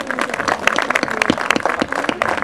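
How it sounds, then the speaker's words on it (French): An outdoor crowd at a centrist political picnic in a park claps, with irregular, close individual claps and scattered voices mixed in, rising and falling in short bursts. "Vous pouvez tous les applaudir hein, au fur et à mesure."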